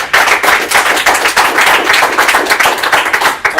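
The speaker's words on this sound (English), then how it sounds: "both of them deserve a large round of applause" A seminar audience applauds loudly and close at hand, with sharp, distinct claps and a strong pulsing rhythm that carries on throughout and drops off near the end.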